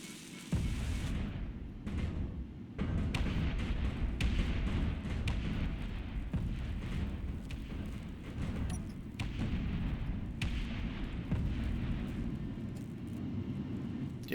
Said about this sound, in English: let's see if that torpedo manages to hit it